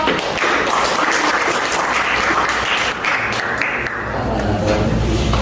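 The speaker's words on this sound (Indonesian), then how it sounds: "tepuk tangan buat kelompok" A classroom group of students applauds, a dense burst of clapping lasting several seconds at close range, with a few thumps and voices mixed in.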